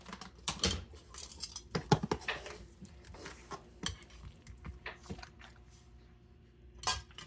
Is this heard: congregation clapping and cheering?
no